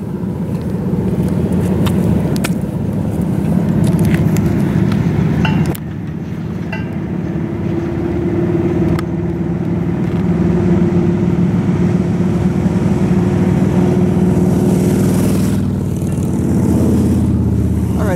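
Steady road traffic near Yuba City, California, with cars passing in a continuous loud rumble and a sharp change as one vehicle goes by midway, then sustained engine and tire noise with no talking.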